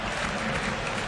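Olimpia football supporters in a Paraguayan league stadium applaud, a dense wash of clapping and crowd noise holding steady and loud for about a second with no clear pauses.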